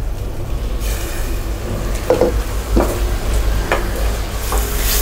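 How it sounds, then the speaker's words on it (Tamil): Biryani masala sautéing in a pan, a constant close sizzle with a low rumble underneath and several sharp scraping strokes of a spoon stirring the paste. "இது நல்லா பச்சை வாசம் போகிற வரைக்கும் நல்லா வதக்கணும்"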